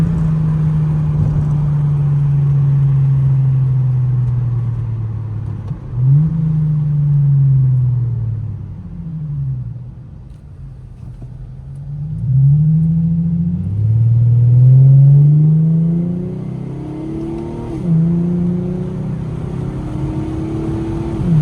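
An Infiniti G35 engine revs while driving, a loud, low, throaty drone that rises and falls through repeated gear pulls and shifts, close and continuous with no talking.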